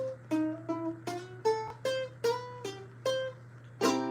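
A ukulele plucking a sequence of single blues notes in C at a steady pace, ending on a strummed chord, over a low constant hum.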